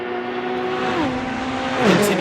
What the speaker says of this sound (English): let's get an even louder listen to these cars